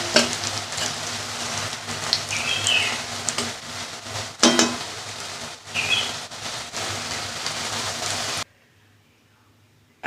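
Puffed rice frying in hot oil gives a steady, close crackling sizzle with a few stirring clatters, then cuts off to near silence.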